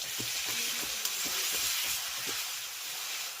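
Onion, ginger and garlic paste frying over a medium flame, giving a steady close sizzle with soft stirring scrapes throughout and no talk.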